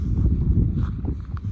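A strong monsoon wind buffets the microphone in loud, low, rumbling gusts that stay steady throughout, with faint knocks and rustles underneath.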